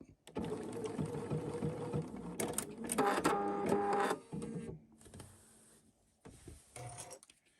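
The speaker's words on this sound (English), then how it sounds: "now that we have reinforced where we're planning to put our welt pocket on the sewing machine" A sewing machine stitches fabric to reinforce the outline of a welt pocket, running in steady bursts with short pauses between runs, then stopping and starting again near the end; no voices.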